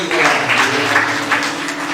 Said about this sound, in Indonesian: Kita tepuk tangan saudara buat Naldo.